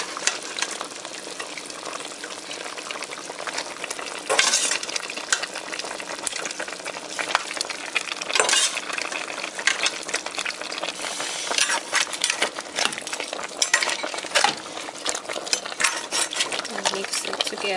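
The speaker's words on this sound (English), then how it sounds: "Mix it together" Plantain, potatoes and vegetables being stirred in a pot of Haitian bouillon, a continuous bubbling sizzle broken by occasional sharper scrapes and clinks of the spoon against the pot, close and fairly loud, with no talk.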